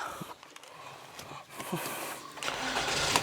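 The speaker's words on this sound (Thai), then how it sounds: "เรามาสตาร์ทรถกันดีกว่า" A 2019 Toyota Camry 2.0 G is started from inside the cabin. Faint clicks and rustling give way to the engine cranking and catching, and a steady mid-pitched idle builds toward the end.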